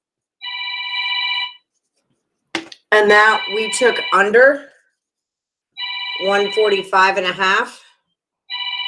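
A telephone bell rings in two bursts, then a third at the end, with someone talking between and over the rings.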